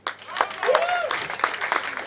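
An audience at a business awards dinner claps continuously for about two seconds, with a voice speaking over the applause.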